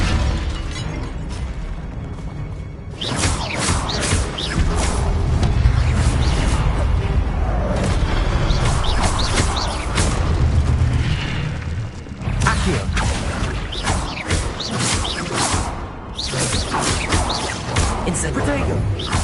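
Repeated blasts of the Incendio fire spell in the Hogwarts Legacy video game, loud bursting booms and crackles in quick succession amid ongoing combat noise.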